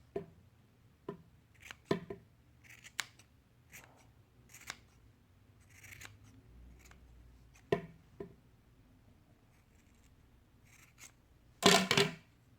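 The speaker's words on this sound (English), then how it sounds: "I'm going to snip that piece there." Scissors snip yarn to trim a handmade pom-pom, giving a series of short, crisp cuts spaced irregularly across the stretch, close up, with a louder burst of rapid snipping near the end and no talking.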